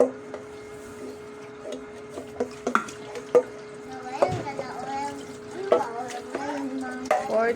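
Rice grains are rinsed in water in a home kitchen before cooking, with scattered splashing, swishing and clinks of grains against the pot, while people talk nearby.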